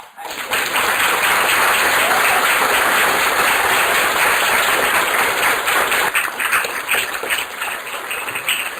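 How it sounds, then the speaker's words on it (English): Applause from the audience at a panel discussion event, steady dense clapping near and loud that holds for about eight seconds and then thins slightly toward the end. "if we could finish on a round of applause."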